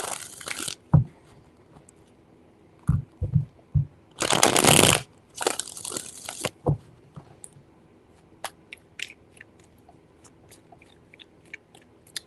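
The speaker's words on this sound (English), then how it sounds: "Three shuffles." Tarot cards being shuffled in bursts, crisp riffling and flicking in short separate strokes with one longer dense riffle, close and fairly quiet, no talk.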